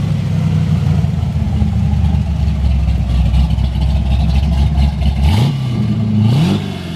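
Heard from the side, a 1972 Chevrolet Chevelle V8 with a performance cam idles loudly with a choppy, loping rumble, then gets a quick blip of revs near the end that rises and falls.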